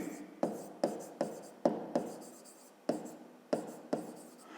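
A pen or pencil writes out a fifth-grade math solution on paper in short strokes, close and distinct, with sharp taps and scratches at a roughly steady pace. No voices.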